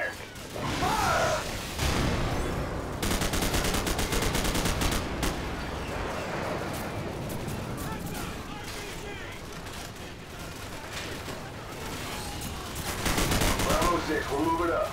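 A tank gun fires in Call of Duty 4, heavy booming shots over continuous loud battle noise and gunfire, with voices shouting in the mix.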